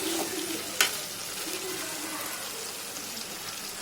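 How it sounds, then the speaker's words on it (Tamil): White brinjal frying in hot oil in a Tirunelveli-style kitchen: a steady, soft sizzle with a brief clink partway through, close and continuous. "இது ஒயிட் கலர் கத்திரிக்காய். இது சீக்கிரம் வெந்துடும். நீங்கள் எண்ணெயிலே ஃப்ரை பண்ணாலே போதும்."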